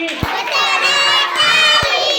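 Schoolchildren in a Class 1 classroom at a government school in Bihar clap their hands in a couple of sharp, close claps amid sung, chanted children's voices.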